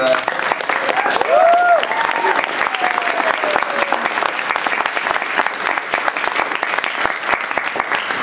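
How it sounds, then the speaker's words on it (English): Loud, sustained applause from a large convention audience at a comic Q&A at MAGFest XI, steady clapping throughout with a few cheers and whistles rising early on. "one more round of applause for Andy for."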